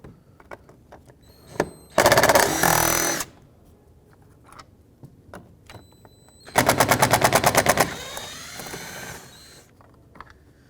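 A power tool drives T30 bolts out of a 2006-2011 Chevrolet HHR door in two loud, rapid ratcheting bursts a few seconds apart, with small clicks and handling noises between them.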